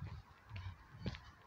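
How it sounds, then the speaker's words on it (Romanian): Geese honk in an urban delta wetland, with two distinct calls around a second apart over a quiet outdoor background, fairly close but faint. "Se aud sunetele păsărilor."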